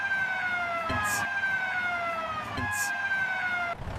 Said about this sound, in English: here comes a red fire truck to help people